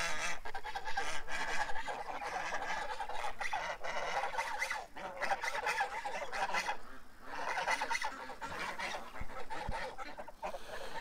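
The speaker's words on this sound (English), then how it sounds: "I'm getting swarmed by geese." A flock of geese crowds close around, honking loudly and repeatedly in overlapping bursts with no speech.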